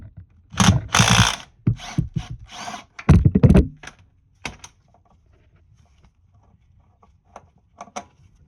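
Ratchet working a 14mm bolt on a 1988-1992 Toyota Corolla with an A131L automatic transmission: quick bursts of close, dry clicking in the first few seconds, then mostly quiet with a few faint isolated clicks.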